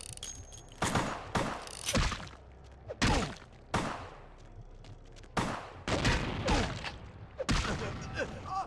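An enemy's shotgun firing in Vampire: the Masquerade Bloodlines: about eight or nine loud, sharp blasts at irregular intervals, each with a short decaying tail, some in quick pairs.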